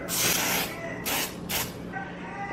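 Three short hissing bursts of cooking spray onto macaroni and cheese, the first longest, separated by brief pauses, close by and fairly loud.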